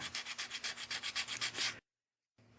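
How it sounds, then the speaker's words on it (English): Sandpaper rubs back and forth across varnished watercolor paper in quick, even strokes, about a dozen rhythmic scrapes, then stops abruptly into silence. "Sanding it after the first hardened layer of varnish is applied"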